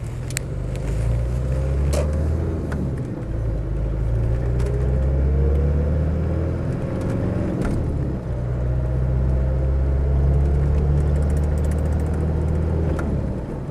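A Land Rover Discovery 300TDi diesel drives off, its engine a steady low rumble heard from inside the cabin, with faint rattles and clicks over the drone.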